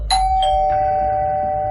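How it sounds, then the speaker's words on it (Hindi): A doorbell at a home chimes close and loud, with three quick struck tones that settle into a long sustained ring, with no voices around it. "दरवाजे की घंटी बजी।"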